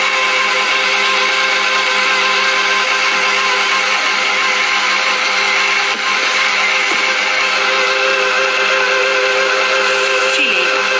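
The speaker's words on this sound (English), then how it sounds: "Slow speed to start, and then we'll whisk it up." Electric stand mixer whisking icing sugar for a carrot cake frosting, a steady loud motor whine with a constant pitch throughout, no talk heard over it.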